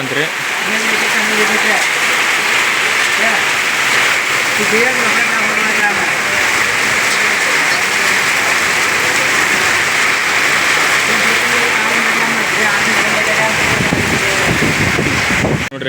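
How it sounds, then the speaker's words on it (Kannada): Heavy rain roars in a thick, continuous wash of noise, with voices faintly audible beneath the downpour. "ಎಷ್ಟು ಮಳೆ"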